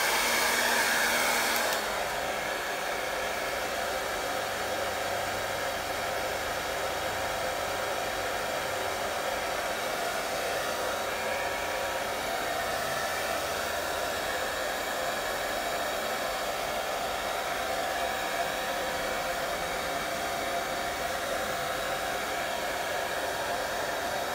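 A hair dryer blows on a painting to dry the paint, a loud, steady, close whooshing hiss running unbroken for over twenty seconds after a brief quieter start.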